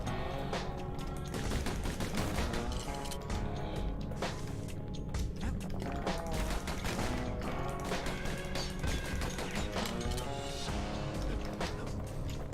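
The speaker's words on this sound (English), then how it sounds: "Dang, the rifle's fast now." A rifle fires in rapid bursts in the action video game Bastion, a dense, loud, continuous run of sharp shots layered over the game's music and effects.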